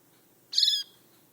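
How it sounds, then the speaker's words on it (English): A tiny baby bird gives a single short, high, bright chirp, close and clear against a quiet background. "he's doing a wee chirp"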